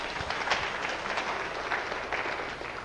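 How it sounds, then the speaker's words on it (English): At a 1992 NRAO Jansky astronomy lecture, the audience applauds with a moderately loud, continuous patter of many hands, with a few sharper claps standing out over the few seconds. "Now you're supposed to applaud."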